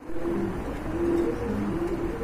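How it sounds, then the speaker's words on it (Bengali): A pair of Dauka pigeons coo in low, repeated rolling phrases at close range, fairly loud, with no talk. "এক জোড়া ডাউকা কবুতর দেখতে পাচ্ছেন আপনারা"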